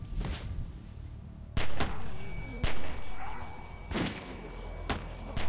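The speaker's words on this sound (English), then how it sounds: "the gunfire is going to draw in a load more as well" Several loud, sharp gunshots in a zombie video game crack out at irregular intervals over a noisy, rumbling background, with faint voices underneath.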